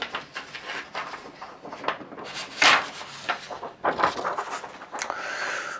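A wooden presentation board is shifted and set into place, giving close scraping and rubbing with a few knocks and short scuffs over about six seconds.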